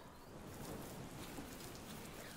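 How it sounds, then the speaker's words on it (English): Steady rain falling in the overworld of the video game Pokemon Sword, a soft continuous hiss of drops at moderate level with no voices, ending on a brief sharper tick. "It is raining in the overworld, so that means a couple of things."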